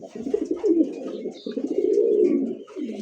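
A male toy Lahori pigeon coos up close in a low, rolling series of repeated coos, steady and unaccompanied by talk.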